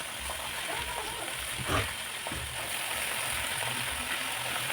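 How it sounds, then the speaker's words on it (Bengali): Chopped spinach dropped onto fried onions in a hot pan, giving a steady close sizzle with a brief louder splash of frying near the middle, without any talk. "এবার আমি দিয়ে দেবো পালং শাক।"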